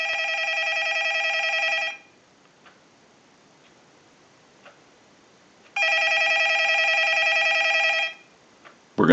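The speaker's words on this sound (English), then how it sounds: "We're going to let it ring one more time and we'll give you some dial tone." A Spirit of St. Louis Mark IV telephone under repair rings with an electronic warble in two bursts of about two seconds, separated by a quiet gap with a few faint ticks, and a click comes at the end.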